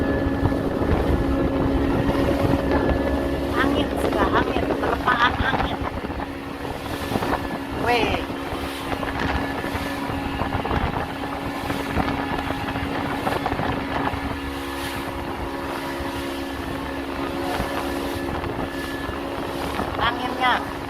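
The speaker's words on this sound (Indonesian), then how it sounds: "Angin, sudah angin, terpaan angin." Strong wind gusts buffet a boat at sea amid rough waves and rain, a constant rushing roar with engine drone beneath, while someone talks over it.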